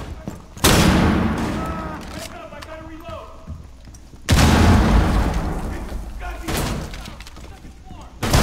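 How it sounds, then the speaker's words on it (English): A flashbang grenade goes off during a breach in the Rainbow Six Siege beta Terrorist Hunt on the Consulate map, two loud broadband bursts about four seconds apart with gunfire and voices in between. "Flashbang."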